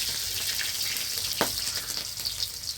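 Slit green chilies fry in oil for a spinach dish, giving a steady close sizzle with one sharp crackling pop in the middle and lighter spatters after.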